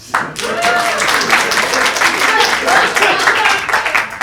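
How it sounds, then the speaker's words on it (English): A studio audience claps steadily throughout, a dense sustained wave of applause that fills the space, loud and continuous with no talk over it. "Please clap."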